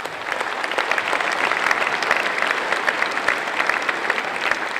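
A crowd at the opening of a new multiplex building in Penhold applauds the people who built it, with steady dense clapping that holds at an even level throughout.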